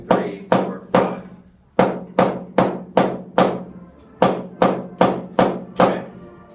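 A drum five-stroke roll played slowly and evenly, with crisp sharp strikes falling in short repeating groups separated by brief gaps, close and loud with no talking.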